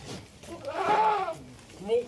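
Goats bleat at a sacrificial goat wholesaler, one drawn-out nasal bleat in the middle and another brief call near the end, close by, while someone talks over them.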